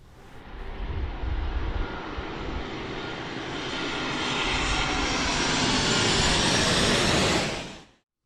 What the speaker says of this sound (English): Those planes are really loud right here.